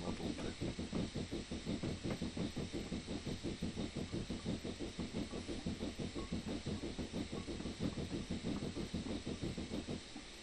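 A steam locomotive in Train Simulator 2021 chuffs rapidly and rhythmically at a steady pace, with constant hiss and rail clatter mixed in, running continuously without speech.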